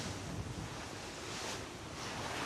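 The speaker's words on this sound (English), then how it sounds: "As he blasts through 20-foot waves and stiff headwinds, Giovanni thinks about his lost friend" Wind and ocean waves at sea during a sailing race, heard as a loud, continuous roar of rushing water and gusting air with no distinct breaks.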